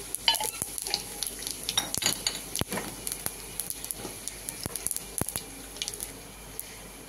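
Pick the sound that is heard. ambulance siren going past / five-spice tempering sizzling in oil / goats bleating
five-spice tempering sizzling in oil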